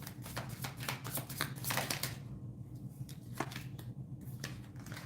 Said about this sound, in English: I cleanse the cards, shuffle them, mix them up